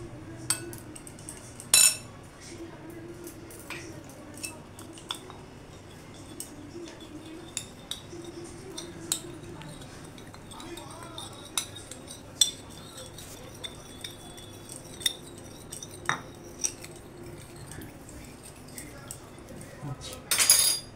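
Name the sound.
spoon stirring cornflour and salt into water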